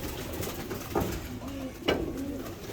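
Pigeons coo in a loft, with a few soft, rolling calls standing out clearly over a constant background hiss and rustle.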